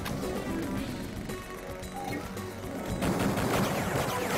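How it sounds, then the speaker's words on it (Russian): A big weapon shot in Duke Nukem 3D with the Polymer HD renderer: dense, loud gunfire and blasts run continuously, growing heavier toward the end, with no talking. "В эту дырку сейчас полетит большой и длинный выстрел."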